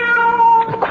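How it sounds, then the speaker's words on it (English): A cat meows outside a house, one loud, close, drawn-out yowl that holds steady before breaking into a rougher, wavering tail. "Quiet out there, Cat."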